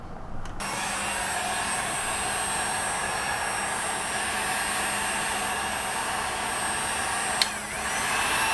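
A heat gun warms the fender emblem clip on a 2016+ Cadillac CTS-V, giving a steady, close, continuous blowing hiss with a faint low hum that runs almost unbroken from start to finish, with a brief click near the end.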